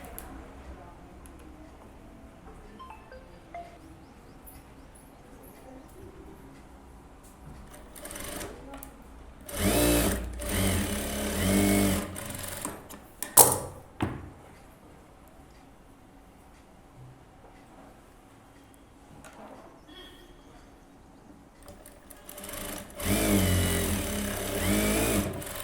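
A sewing machine stitches a blouse shoulder seam in several bursts of rapid, close mechanical whirring and ticking, separated by quiet pauses with a voice talking between runs.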